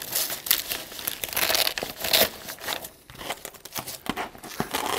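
Paper is crumpled and crinkled close by in a string of sharp, crackling bursts with short pauses, no voices over it.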